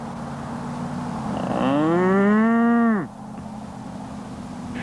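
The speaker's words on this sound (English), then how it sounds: "where the cattle roam and the horses graze" A single cow moos on a farm in Northwest Louisiana, one long, loud, close call with a rising then falling pitch, over steady outdoor background noise and with no one talking.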